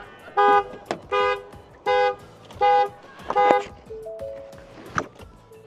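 A car alarm set off when a selfie stick bumped the car blares four loud, evenly spaced tonal blasts up close, then drops into a shorter warbling chirp and a faint tone.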